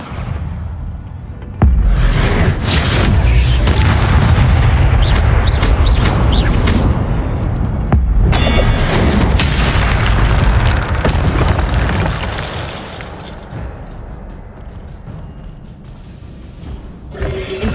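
Fiery spell blasts in the Hogwarts Legacy video game: loud, sustained booming bursts with crackling impacts that roll on for many seconds, then taper to a lower rumble near the end.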